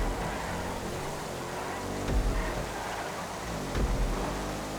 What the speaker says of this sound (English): The rain's definitely made this trickier